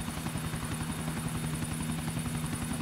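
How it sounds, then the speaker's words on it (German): A helicopter in GTA 4 whirs steadily with a continuous rotor drone and rapid, even blade thumping, loud and close with no pauses throughout. "wir werden jetzt hier im Hubschrauber ordentlich einen durchzuwirbeln"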